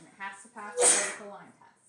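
A single short, sharp sneeze bursts out during a math lecture, set between spoken words of the lecturer explaining a graph.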